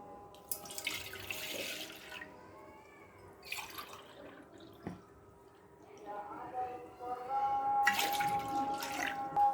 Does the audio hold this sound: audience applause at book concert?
no